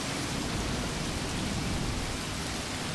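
Steady rain hiss in the wartime game Combat Mission: Beyond Overlord, a dense, unbroken wash of noise with no distinct drops or thunder.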